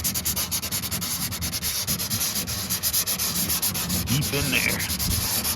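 Old wood on a 66-year-old boat is sanded and scrubbed by hand in a continuous, rhythmic rasping close to the microphone, with a short spoken remark near the end.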